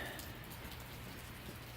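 Steady rain falls on a farm barn, a continuous soft hiss of drops on surfaces with no breaks and no talk, even and moderately close throughout.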